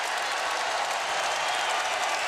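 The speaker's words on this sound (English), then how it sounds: "here comes the crowd once again in a timeout for Scott Drew" A basketball arena crowd at a Texas A&M versus Baylor college game in College Station roars during a timeout, a dense, loud wash of cheering and clapping that stays constant throughout.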